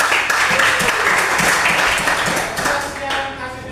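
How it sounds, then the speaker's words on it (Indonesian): A classroom of students claps for a student group, a dense burst of applause that fades toward the end, with voices mixed in. "Beri tepuk tangan buat kelompok"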